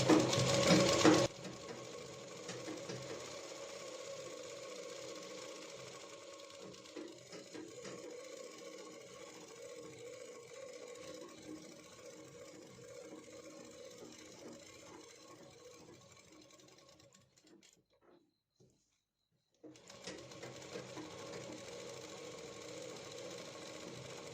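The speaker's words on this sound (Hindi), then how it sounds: "हमें सिलाई को लगा देना है।" A sewing machine runs steadily while stitching lehenga panels for a Rajputi suit, a fairly quiet continuous mechanical whir after a brief louder start, pausing for about two seconds near the end before resuming.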